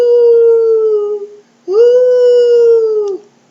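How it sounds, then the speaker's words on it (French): Wolves of a departing pack give two long sustained howls, one after another with a short gap, loud and clear and carrying alone over a quiet night with no other sound. "Tandis que la meute de loups s'éloigne"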